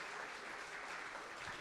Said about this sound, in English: let's give a round of applause for all those fantastic elders